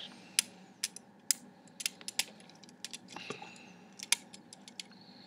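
A plastic chest-mounted rapid shooter accessory clicks onto the torso of a toy figure, making a close series of sharp little snaps and rattles with no talking.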